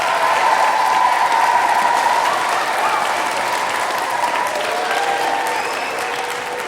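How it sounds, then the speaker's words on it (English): Audience in Snape Maltings Concert Hall gives guests a warm round of applause at a children's Big Sing choral event, dense sustained clapping filling the hall and easing slightly toward the end. "Can you give them a round of applause and thank them for coming?"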